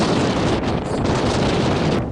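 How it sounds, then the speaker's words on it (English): Strong wind buffets the microphone in the open bush country, a continuous loud roar of gusts with no voices, easing slightly near the end. "we'll get out of this wind into the bush"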